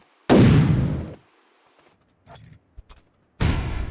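In the game Battlegrounds, grenades blow up vehicles. Two loud, booming blasts about three seconds apart each roll off over roughly a second, with faint clinks and small impacts in the quiet gap between them.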